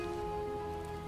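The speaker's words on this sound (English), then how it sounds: "It's raining as well," Steady rain in the zombie survival game Project Zomboid, a soft, even hiss of drops falling on surfaces that runs unbroken and faint for the whole brief moment.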